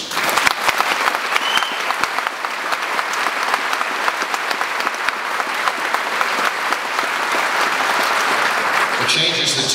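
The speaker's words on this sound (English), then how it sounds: "applaud the dedication of the fire service." A theater audience at a premiere breaks into loud, dense applause honoring the fire service, the clapping steady and sustained for nearly ten seconds before cutting off.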